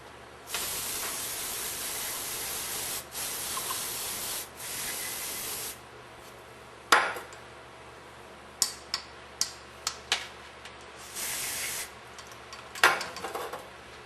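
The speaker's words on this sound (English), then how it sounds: "First we use our solvent." Solvent sprayed from a can to clean rusty parts from a Meyer E 47 rebuild: several long hissing bursts separated by pauses, then sharp ticks and clicks of handling, close and loud, no speech.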